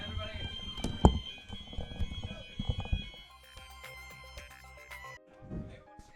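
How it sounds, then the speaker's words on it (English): An electronic fire alarm sounds in Grand Theft Auto: San Andreas, a steady tonal ringing that continues under people talking, then carries on more clearly once the talk drops away. "Well, I guess we're leaving to a fire alarm."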